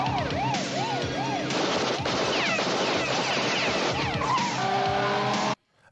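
An old car races through a film car chase, engine revving with tire squeals and skids over a wailing siren, loud and continuous, before dropping into sudden silence at the end.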